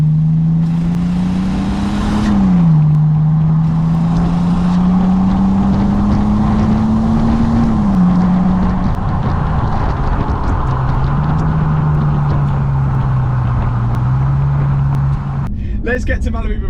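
A cheap Bentley Continental GT drives on the road with a steady, loud engine drone and road rumble. The pitch rises and dips slightly as it goes, and a voice talks over the noise inside the cabin.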